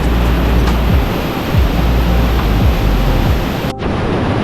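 A waterfall roars during a river tracing hike, a loud, steady wash of broadband rushing noise close by that barely changes throughout, with a brief dip near the end.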